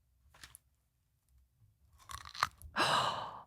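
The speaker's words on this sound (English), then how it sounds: "I wonder if I could do a crunch down the mic." Crunchy food is bitten and chewed right up against a microphone. A few soft crunches come first, then a loud burst of crackling chews near the end.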